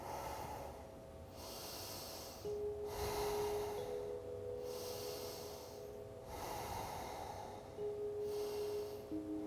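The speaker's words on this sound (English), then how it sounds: "4 more deep breaths here." Slow, deep breathing during a gentle yoga session: long audible inhales and exhales in a steady cycle, close and soft, with no talking.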